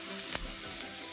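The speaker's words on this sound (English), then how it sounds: "dice up the onion and the garlic and throw in. Just stir it around until it's nice and soft" Diced onion and garlic fry in oil, a soft, brief sizzle with one sharp utensil tap near the start.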